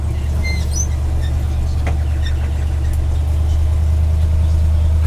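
A 1973 International Loadstar truck idling beside a granary, its engine giving a loud, steady low rumble with an even throb that holds unchanged throughout, close by and with no voices.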